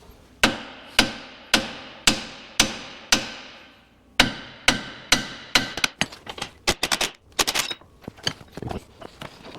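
Loud, close hammer blows ringing out at a steady rhythm, then speeding into a faster, irregular flurry of strikes, during front ball joint and axle shaft installation on a vehicle.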